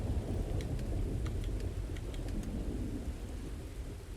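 Steady rain with a low rumbling thunder roll on a rainy planet in the video game Starfield, a dense continuous wash with faint scattered ticks of drops, no voices.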